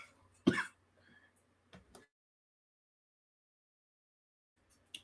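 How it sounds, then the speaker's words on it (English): A man coughs and clears his throat in a few harsh, separate bursts: one strong hack, then two smaller ones, followed by near silence and a final short cough at the end. "Almost coughed up a lung there"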